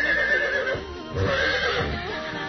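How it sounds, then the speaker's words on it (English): A horse whinnies loudly during a wedding reception. The shrill, wavering neigh rises and falls over about two and a half seconds, with faint hoof-like thumps and background noise underneath. "As a horse rides through the reception."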